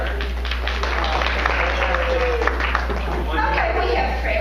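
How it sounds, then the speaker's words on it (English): An audience at a conference session applauds for Trevor, a steady wash of clapping that runs the full length, with a voice talking over it. "Let's have a round of applause for Trevor."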